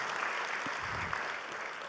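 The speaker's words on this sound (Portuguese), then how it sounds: "o aplauso." Applause from an audience at an agricultural event in São Paulo, Brazil, a steady wash of many hands clapping at moderate distance, filling the whole moment without a break.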